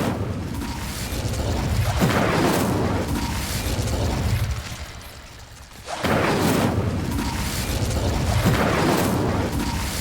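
An Incendio fire spell cast in the Hogwarts Legacy video game, heard as loud roaring bursts of fire with booming pops that swell, dip briefly, then flare up again, all close and with no voices.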